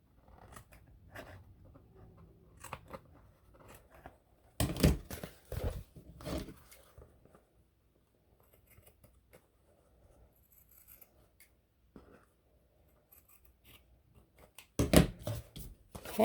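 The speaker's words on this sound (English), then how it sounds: "And then I'm gonna just cut this bottom part." Scissors snip through the bottom edge of a frayed handmade craft piece, a few close, crisp bursts of cutting with quiet rustling of paper or fabric between them.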